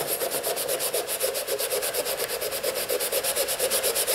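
Rapid, rhythmic back-and-forth rubbing of a sanding block against a chisel to remove surface rust, a steady scratchy rasp with regular strokes, close and alone.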